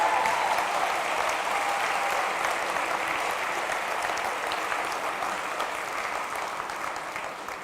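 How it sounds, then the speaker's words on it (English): Sustained applause from a large conference audience for law enforcement officials at a political leadership summit, a dense steady wash of clapping that slowly fades over several seconds. "please a round of applause for all the law enforcement officials here"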